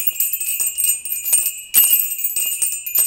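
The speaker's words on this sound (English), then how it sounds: "Now listen to these bells." Yin yang bell chimes ring steadily with sustained bright metallic tones and repeated soft strikes, close and clear with no talking.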